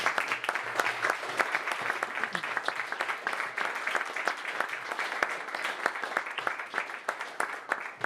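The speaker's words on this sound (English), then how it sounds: "I think big applause." A panel audience claps steadily after a conversation on Catalan history, a dense, even round of applause lasting throughout with no voices over it.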